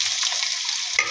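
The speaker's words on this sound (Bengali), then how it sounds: "এখন দিয়ে দেবো পেঁয়াজ কুচি।" Chopped onion hits hot oil in a kadai while cooking pangas fish bhuna, giving a brief, steady, close sizzling hiss with a soft stir near the end.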